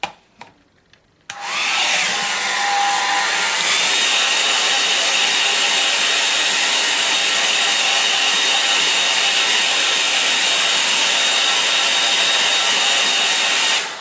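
Hair dryer blowing on a wet watercolour painting, switching on after a brief click and then a steady, loud, close whoosh that runs unbroken.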